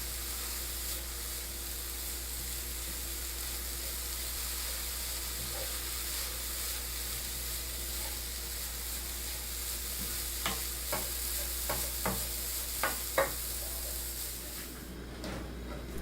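Osmanthus flowers stir-fried in a dry wok over low heat, giving a steady soft sizzle and hiss with a run of scraping spatula strokes near the end.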